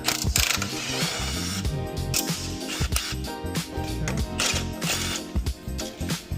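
A ratchet wrench with a 14 socket tightens bolts on a CUSCO front lower arm brace of a Lexus IS300, producing close, rapid clicking bursts in repeated strokes with brief pauses.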